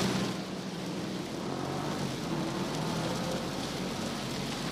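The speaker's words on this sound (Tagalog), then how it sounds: "Rafi, malakas na ulan ang naranasan dito sa Las Piñas kanina" Heavy rain pours steadily onto Zapote Road in Las Piñas, a dense, continuous loud hiss with no pauses and a faint low rumble beneath.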